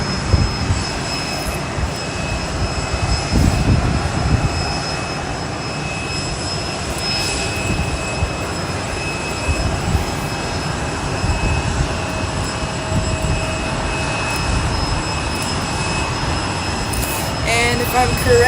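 A jet airliner, an A320 arriving from Las Vegas, roars loudly and continuously as it comes in at Boise airport, a broad sustained engine rumble and whine lasting throughout with no pauses.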